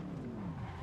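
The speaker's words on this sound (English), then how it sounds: "Oh, and we spun out." A short, loud tire squeal as a race car spins out at low speed in Assetto Corsa, its engine droning underneath a sliding skid that lasts under a second.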